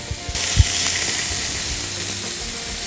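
Seared meatballs for Turkish çeltik kebab slide into tomato sauce with a sudden loud sizzle and hiss. A sharp splash-like thud comes first, then a steady, close sizzle continues without talk.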